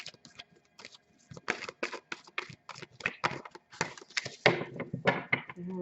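Tarot cards being shuffled by hand in a quiet room, a run of crisp papery riffles and soft slaps, near and fairly quiet, with no voices.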